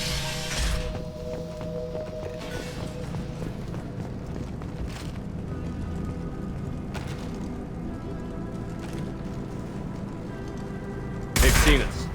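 Mass Effect 2 combat: Blue Suns mercenaries and Vorcha fire weapons at anything that moves. A sharp burst of gunfire opens, a dense background of game noise follows, and a louder volley erupts near the end.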